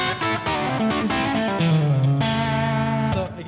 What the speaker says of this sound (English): If I put on a little bit less distortion here